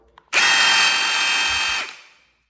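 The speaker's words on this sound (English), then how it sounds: "15 millimeter random orbital polisher" A Milwaukee Fuel 15 mm random orbital polisher runs in one steady high-pitched whir for about a second and a half after a faint click, then winds down and fades out, close by and alone.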